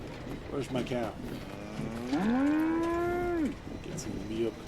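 A cow in the video game Fallout 76 lets out one long, loud, drawn-out moo, with brief lowing sounds before and after it.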